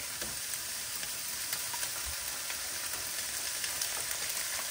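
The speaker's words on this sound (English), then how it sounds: "I'm also going to go ahead and toss in some minced garlic." Minced garlic sizzling and frying in an unwashed pan still coated with meat drippings, a steady close crackle and hiss that carries on without a break, with no talking.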